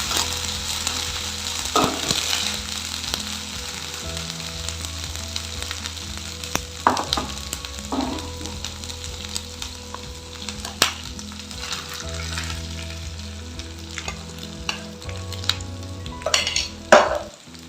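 Spice paste added to a hot pan for palak paneer, sizzling steadily while a spoon scrapes and stirs, with occasional knocks of the utensil against the pan, close and continuous.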